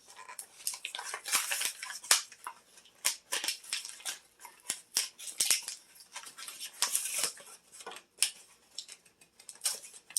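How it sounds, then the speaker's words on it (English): Pruning shears snip through thin Dollar Tree craft fence pieces in a quick run of sharp, close clicks and crunchy cuts, irregular and dense. "I have these pruning shears so I can cut the fence pieces easily"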